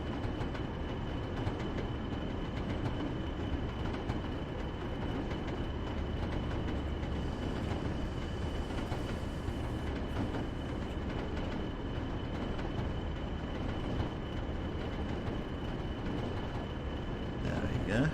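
A train running steadily in the Train Sim World video game, a continuous low rumble and rail noise throughout at even loudness, with a voice talking over it.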